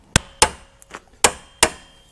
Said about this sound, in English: I'm just going to use a punch